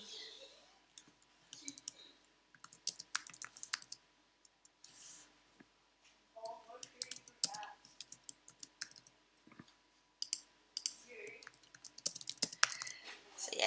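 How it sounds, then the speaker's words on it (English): Light typing on a computer keyboard during a home live stream, soft irregular clicks in bursts with pauses, fairly faint and close, with a few quiet voice-like sounds in between. "So I'm just typing a little bit."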